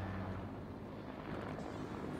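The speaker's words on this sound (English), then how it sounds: "Oh, he's got a helicopter." A continuous low rumbling drone of a helicopter in flight in the video game Fortnite, moderately faint and steady, with no talking.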